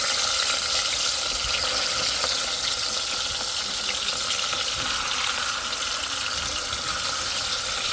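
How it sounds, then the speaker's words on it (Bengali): Fish roe frying in hot oil in a wok gives a steady, even hiss and crackle that holds at a moderate level throughout, with no voices. "এটার মধ্যে তেল দিয়ে দিছি সকাল থেকেই কড়াইতে ভাজা হচ্ছে সব কিছু"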